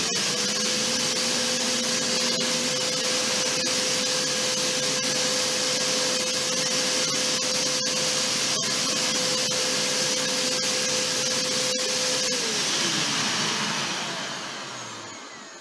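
Arnica Bora 4000 vacuum cleaner with a freshly replaced motor runs loud and steady nearby, a constant whine holding for about twelve seconds before the motor pitch drops as it winds down.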